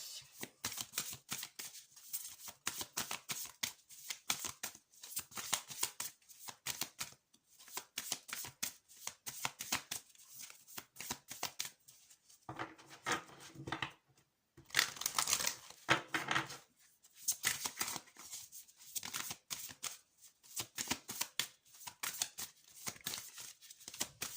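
A deck of tarot cards is shuffled by hand, close up. Quick, papery riffling bursts repeat again and again with brief pauses between rounds, with almost no talking.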